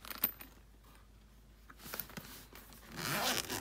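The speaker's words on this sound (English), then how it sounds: "Let's open this zipper up." A waterproof, tightly sealed zipper on a Mavic Air 2 drone bag is pulled open up close, with a few quiet tugs followed by a longer rasping zip toward the end.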